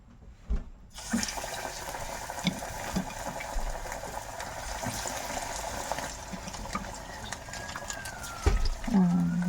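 Banana empanada deep frying in hot oil in a small pot, a steady loud sizzle and bubbling hiss that starts abruptly and then runs on, with a voice speaking over it now and then.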